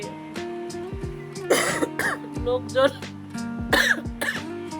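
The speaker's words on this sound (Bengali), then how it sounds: "আমার ওখানে দাঁড়িয়ে থেকে থেকে এমন কাশি হয়েছিল" Several harsh coughs and throat clearings in quick bursts from a nearby person, mixed with brief speech.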